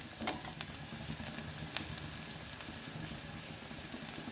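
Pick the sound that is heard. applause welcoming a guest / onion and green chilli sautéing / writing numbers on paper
onion and green chilli sautéing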